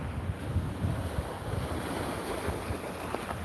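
Ocean waves wash on a beach at Fort Lauderdale, a soft continuous surf rumble with light wind noise, moderately quiet and unbroken throughout.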